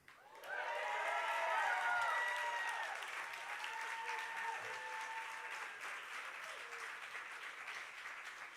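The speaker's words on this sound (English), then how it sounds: "Let's give him another round of applause" Enthusiastic applause rises from a graduation ceremony audience, loud and dense at first, then tapering gradually while scattered cheers and faint voices mingle in.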